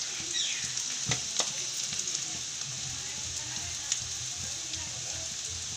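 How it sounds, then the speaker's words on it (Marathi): Cumin seeds sizzle and crackle steadily in hot oil for a Khandeshi pithla tempering, a dense continuous fry hiss with a few sharper pops, close and fairly loud with no talking. "मी त्याच्यामध्ये थोडंसं जिरं फोडणार."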